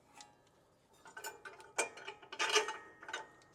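A bolt is tightened on a Jeep Gladiator lift kit with a ratchet, giving quiet, irregular clicking and metallic ticks in short bursts, close by, with no talking.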